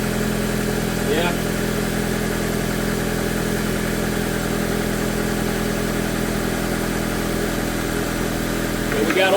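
A repaired car engine idles steadily after its misfire is gone, a continuous even rumble running throughout with a slight rev near the end and faint voices in the background.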